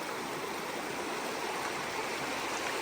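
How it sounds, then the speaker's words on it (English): A stream on a long-distance hiking trail in southern Maine flows in a steady, close, full rush of water, even and unbroken throughout, with no voices. "So here we are crossing awesome streams."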